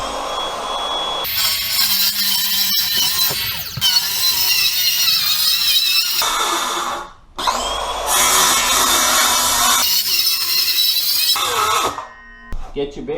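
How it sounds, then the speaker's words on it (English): Circular skill saw cutting through subfloor underlayment with the blade set shallow, loud close whining bursts of cutting separated by brief pauses as the saw stops and restarts. "we're going to take our skill saw and we're going to set the saw depth to a little less than the thickness of this underlayment"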